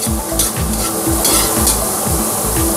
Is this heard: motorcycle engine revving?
no